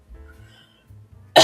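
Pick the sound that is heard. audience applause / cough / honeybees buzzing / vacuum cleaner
cough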